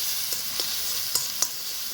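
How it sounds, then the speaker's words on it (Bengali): Ginger garlic paste frying in a pan, an even close sizzle broken by a few soft clicks of stirring, with no voices. "আদা রসুন বাটাকে একটু ভেজে নেবো"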